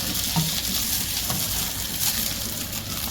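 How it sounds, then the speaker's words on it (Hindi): Chicken pieces and garlic sizzle and crackle in a hot oiled pan, a steady close frying hiss with occasional stirring scrapes. "इसके चिकन ऐड कर देंगे और इसे अराउंड 1 मिनट तक के लिए थोड़ा सा सॉटे करते हैं"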